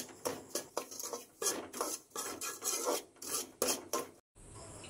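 Semolina with ghee and milk powder is stirred in a pan, giving about a dozen rhythmic, close scraping strokes. A brief silence comes near the end.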